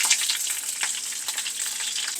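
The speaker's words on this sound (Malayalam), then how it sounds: "എണ്ണ ചൂടാകുന്നുണ്ടെ കടുകിടാം രണ്ട് വറ്റൽമുളക് കറിവേപ്പില" Mustard seeds, dried red chillies and curry leaves hit hot coconut oil for Kerala tomato rasam, making a bright, close, continuous crackling sizzle with a few sharper pops.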